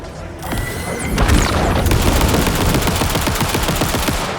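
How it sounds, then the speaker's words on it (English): Rapid gunfire in Alan Wake 2: a deep boom gives way to loud, fast, continuous automatic shots rattling close up for several seconds, with no talking. "Wait, is this rapid fire?"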